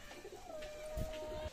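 Pigeons in a loft give a faint, low coo over a soft background hum, with a brief bird call just audible.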